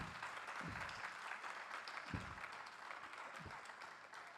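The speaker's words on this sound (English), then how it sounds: "can we have a big round of applause for our panel?" Applause from a conference audience after a panel discussion, a steady wash of many hands clapping throughout, fairly distant and even, with a few low thumps underneath.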